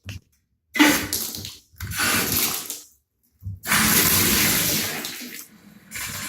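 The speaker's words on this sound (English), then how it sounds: "Make sure our shower works." A bathroom shower in an apartment runs in loud hissing bursts, switched on and off several times with short silent gaps between spells of spraying water.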